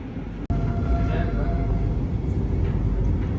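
Vande Bharat Express, train 20678 on its inaugural run, pulling out of Renigunta junction with a steady loud low rumble and rolling noise throughout, a brief sharp click near the start, no voices over it.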